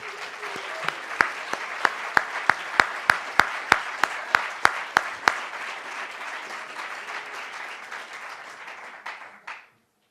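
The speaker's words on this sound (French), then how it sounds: "je vous demande d'applaudir chaleureusement" An audience at a school evening event breaks into warm applause, with a steady wash of many hands and a run of sharp, evenly spaced near claps before it fades out abruptly.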